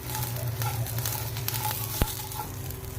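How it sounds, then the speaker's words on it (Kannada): Green chillies, garlic and tamarind roast in a hot pan with a steady, close sizzle and a sharp clink of a utensil partway through. "ಹುಣಸೆ ಹಣ್ಣು ಹುಳಿಗೆ ತಕ್ಕಷ್ಟು ಎಲ್ಲ ಹಾಕ್ಕೊಂಡು ರೋಸ್ಟ್ ಮಾಡ್ಕೊತೀನಿ ಅಷ್ಟೇ"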